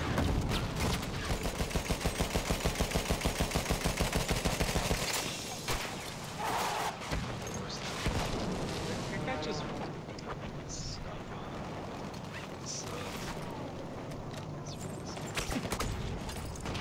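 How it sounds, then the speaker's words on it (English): Battlefield 1 combat on the St Quentin Scar map brings a rapid, rhythmic burst of machine-gun fire for about five seconds, then a constant roar of distant battle noise with scattered shots, under ongoing talk. "And I got shot bailing out of the blimp."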